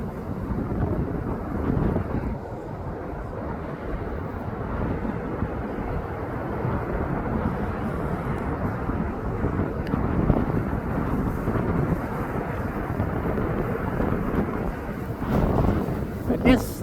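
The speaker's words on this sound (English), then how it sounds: "Here comes that Jet2.com livery aircraft." A Jet2.com jet airliner arriving at East Midlands Airport makes a continuous low, rumbling roar that holds steady throughout, heavy with wind buffeting on the microphone.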